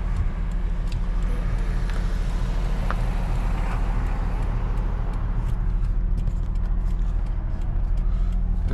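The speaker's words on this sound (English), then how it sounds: "driveline noise so you can maybe recognize it if you're having the same problem" Inside a moving Nissan 300ZX with a damaged driveline, a constant low drone and road rumble fill the cabin, steady throughout with light rattles and clunks over it.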